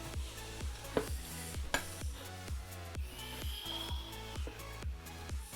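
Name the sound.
spoon stirring puffy slime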